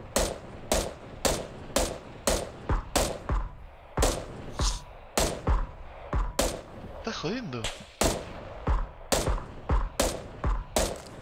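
Gunfire in the PUBG video game: a steady series of loud, sharp shots spaced roughly half a second apart, with a short pause midway, while players talk over it.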